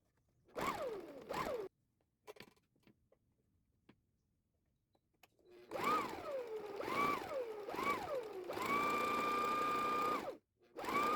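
Sewing machine stitching a horizontal line on fabric for a lanyard key fob, with short bursts of rising and falling whir early on, a quiet gap, then several more bursts ending in a steady run, close and moderately quiet.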